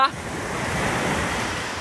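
Sea waves washing onto a beach, a steady close broadband surf roar with some wind noise on the microphone, and no clear speech.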